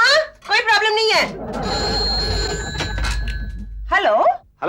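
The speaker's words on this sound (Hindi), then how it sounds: "मैं प्रिया को फोन करता हूँ।" A telephone rings in a home during a comedy show, a trilling electronic ring lasting a few seconds between bursts of speech and a low thump.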